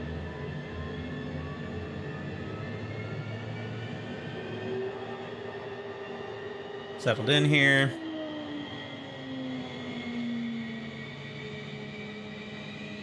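A DC Designs F-15 jet in Flight Simulator 2020 spins up its engines with a steady whining drone and slowly shifting tones, broken by a brief louder crackle midway; a voice speaks briefly.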